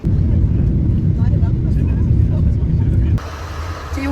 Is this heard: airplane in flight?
yes